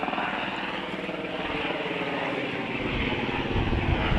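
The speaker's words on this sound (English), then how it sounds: "we got a fast-moving helicopter coming in here" A fast-moving helicopter over Finland's Archipelago Sea during military exercises, its rotor chop and engine roar filling the air steadily, growing slightly louder toward the end as it approaches.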